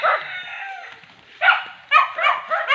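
A dog barks a few times at a distance, short yelping calls in quick succession after a longer opening cry, in an otherwise quiet outdoor setting.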